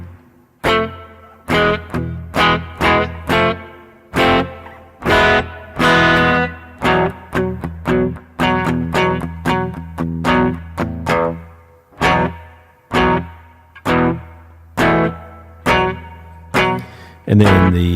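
An electric instrument is played through a reverb effects pedal with a high-pass filter cutting the lows, giving a series of plucked notes and chords with rhythmic attacks and lingering reverberant tails, loud and close, with no talking.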